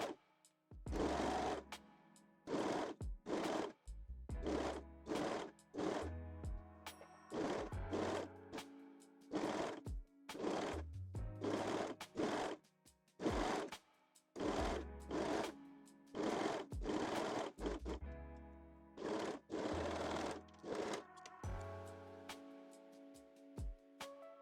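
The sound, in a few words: sewing machine stitching elastic onto a wire-free bralette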